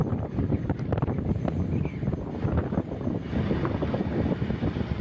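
A strong west wind gusts steadily and roars against the microphone outdoors, loud and continuous with no voices.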